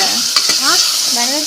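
Egg frying in a pan with pepper powder and spices, a steady close sizzle with stirring and scraping noises over it, no voices.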